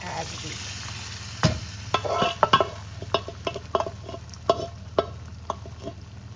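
Cooked lentils tipped into spinach frying in hot oil, then stirred: a steady low sizzle runs throughout, broken by a sharp splash and a series of scraping spoon strokes against the pan.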